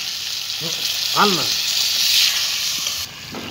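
Chicken curry with potatoes sizzles loudly in a pot over a village wood fire as water is poured in, giving a steady hiss with a brief squeaky scrape partway through.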